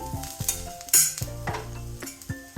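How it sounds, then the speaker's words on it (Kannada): Dry-roasted cumin seeds and peppercorns go into a frying pan for amla thambuli, with a light sizzle and scraping, clinking stirs over a few seconds, close up with no talk. "ಡ್ರೈ ರೋಸ್ಟ್ ಮಾಡಿಟ್ಕೊಂಡಿದ್ವಿ ಜೀರಿಗೆ ಮತ್ತು ಮೆಣಸಿನಕಾಳು, ಇದನ್ನು ಹಾಕೋತಾ ಇದ್ದೀನಿ."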